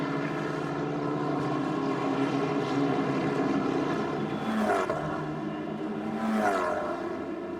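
Formula 4 race cars powering through the Nürburgring circuit, a steady loud high-revving engine drone with two cars sweeping past closer around the fifth and sixth seconds.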